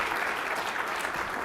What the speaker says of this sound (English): please join me in giving a round of applause to all of our speakers